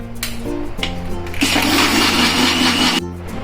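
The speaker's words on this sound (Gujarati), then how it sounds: "ચલો આપણે આને છે ને મિક્સરમાં બંધ કરી અને ફેરવી લઈશું." A kitchen mixer blends mango pulp with milk into a mango milkshake, roaring loudly for about a second and a half in the middle, with a steady background tone before and after.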